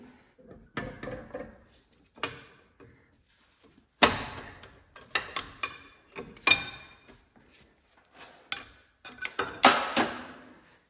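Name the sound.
prying axle shaft seal out with small pry bar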